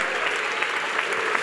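A congregation applauding at an evening youth church service, with steady, dense clapping that fills the room throughout at an even level.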